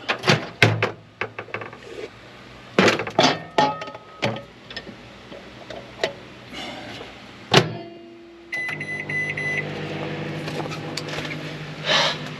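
Clicks and clunks of a door and buttons, then a microwave oven starts humming steadily with a constant drone that continues to the end.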